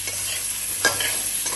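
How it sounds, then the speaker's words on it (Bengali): Potol and potato gravy with sesame frying in a pan as it is stirred: a steady sizzle with one quick scrape of the spoon partway through. "আবার নাড়াচাড়া করব। একটু ভাজা ভাজা হতে দেবেন, একটু ভাজা ভাজা করবেন।"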